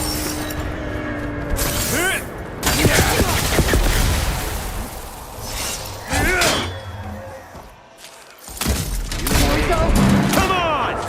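Gunfire and impacts in the video game Horizon Forbidden West, with bursts of shots, thuds and slams mixed with game effects, loud and near. Voices talk over the action.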